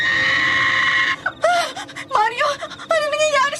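A woman's drawn-out, wailing screams in a Filipino horror story, a long loud shriek followed by several anguished cries and moans.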